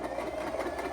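A sewing machine stitches through fabric in a steady, close, even whir that runs unbroken for under a second, with no talking.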